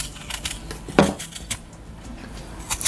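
Knife cutting apples for an apple tart in a home kitchen, heard as a few sharp clicks and taps of the blade on a board or dish, one louder knock near the middle, fairly close with no talk.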